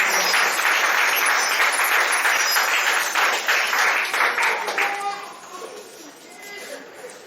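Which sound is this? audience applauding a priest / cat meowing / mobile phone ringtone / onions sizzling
audience applauding a priest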